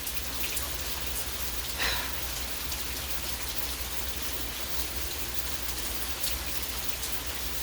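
Steady rain falls near an empty jacuzzi in a quiet neighborhood, a dense, even patter of drops on surfaces lasting throughout, with one brief louder splash and no voices.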